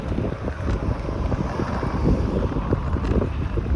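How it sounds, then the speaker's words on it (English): Steady, loud roaring wind buffeting the microphone while cycling into a headwind along a bike lane, a continuous low rumble with no talk. "we're against the wind"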